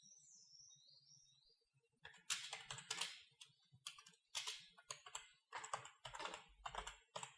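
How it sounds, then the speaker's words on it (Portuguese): Fingers type on a computer keyboard, entering a product list into an Excel spreadsheet, with quick clusters of close key clicks after a quiet start. "então nós vamos digitar aqui uma lista de produtos."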